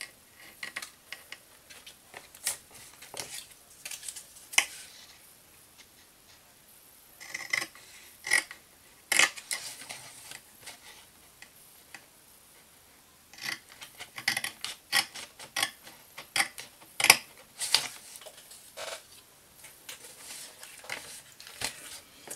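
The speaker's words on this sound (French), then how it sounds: "je vais pouvoir le découper" A paper album piece cut out from an A4 page makes intermittent crisp snipping clicks in short clustered runs with quiet pauses between them, close and fairly faint, without speech.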